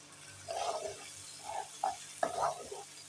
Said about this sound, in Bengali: এই মশলাটা ভালোভাবে কষানো হয়ে যাওয়ার পর এবার আমি দিচ্ছি ফেটিয়ে রাখা টমেটো